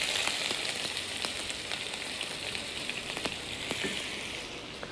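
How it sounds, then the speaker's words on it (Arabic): Onions sautéing in oil in a pan, a continuous hissing sizzle dotted with small pops and crackles, steady and close with no one talking. "حنشوح البصل"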